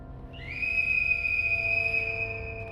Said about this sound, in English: The man with the mustache blows his whistle.